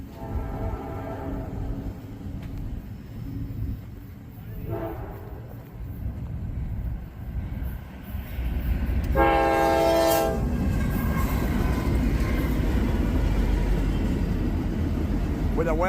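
A freight train rolls past with a Wells Fargo locomotive, rumbling steadily as a loud horn blast sounds partway through, followed by a heavier, closer roar of passing cars.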